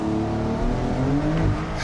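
A Porsche 911 Targa 4S in Sport Plus mode pulls away hard from a standstill on an empty road, its engine note steady and loud with harmonics climbing through the run-up and no voices.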